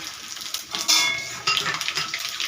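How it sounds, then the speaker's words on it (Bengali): Whole spices tempering in hot oil, with a crackling sizzle, bright spattering bursts and clinks of a utensil against the pan, close and moderately loud. "ওই তেলের মধ্যে এবারে ফোড়ন দিয়ে দেব"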